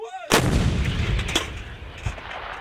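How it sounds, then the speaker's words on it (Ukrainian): A single powerful blast from a 120 mm Rapira anti-tank gun, sharp and loud, followed by a long rumbling echo that rolls on and fades slowly. "тренувалися знищувати мішені із потужних 120 мм протитанкових гармат рапіра"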